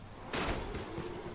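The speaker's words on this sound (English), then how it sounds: "How do I throw firecrackers?" Firecrackers thrown in the zombie video game Dying Light burst in a quick crackling volley, a sudden loud bang followed by a short run of sharp pops and reverberant rumble.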